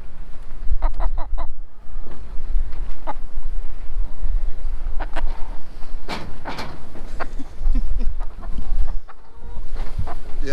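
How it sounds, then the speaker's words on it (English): An agitated, unhappy chicken clucks in bursts of short, sharp calls on a farm, loud and close, over a steady low rumble of background noise. "Chicken. He's not happy."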